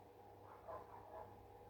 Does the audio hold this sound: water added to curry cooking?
no